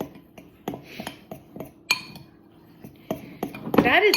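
Dry stovetop stuffing mix being stirred in a bowl, giving a run of scattered clinks and scrapes, close and fairly loud, with short pauses between strokes and a louder clatter near the end.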